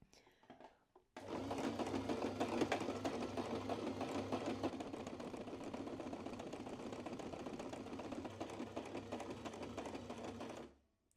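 Sewing machine top stitching with a straight stitch on a scalloped fabric heart garland, starting after a short quiet lead-in and then running as one continuous close, even whir for about nine seconds before stopping.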